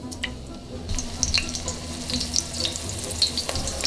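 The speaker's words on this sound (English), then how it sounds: "I like to take half of the onion, which is a quarter of onion, and I like to put it into this oil" Onion pieces sizzle and crackle in hot oil for an Uzbek lamb plov, a steady frying hiss with scattered pops, close and fairly quiet, no talking.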